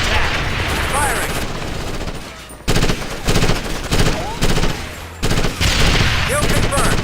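Sustained automatic gunfire from the Ghost Recon Advanced Warfighter game, dense rapid bursts separated by short breaks, loud and close, with radio-style chatter mixed in.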